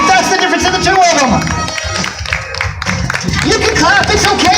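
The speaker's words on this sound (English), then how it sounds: "You can clap. It's okay." Audience at a live magic show clapping and cheering, a dense, loud wash of applause with crowd noise and voices mixed in, dipping briefly midway before swelling again.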